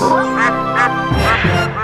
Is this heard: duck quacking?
yes